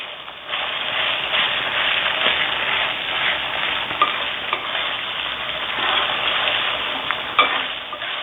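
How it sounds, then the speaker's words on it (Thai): Pork frying in its own rendered fat in a pan on lowered heat gives a dense, continuous crackling sizzle, close and steady throughout with occasional louder pops. "ตอนนี้น้ำมันในตัวของหมูนะครับ ก็จะเริ่มออกมานะครับ เบาไฟลงนิดนึงนะครับ"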